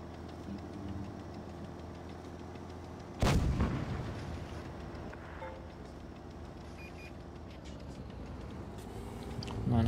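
A single heavy tank cannon blast booms loudly in World of Tanks Blitz, set against a low, steady engine rumble that fills the rest of the stretch.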